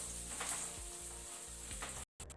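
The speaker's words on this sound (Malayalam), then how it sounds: "ഇനി ഇതിലേക്ക് കട്ട് ചെയ്ത് വെച്ച ഇഞ്ചി വെളുത്തുള്ളി ചേർത്ത് കൊടുക്കാം." Chopped ginger and garlic fry in hot oil for restaurant-style chilli chicken, a loud continuous close sizzle with stirring scrapes, cut by a brief silent gap near the end.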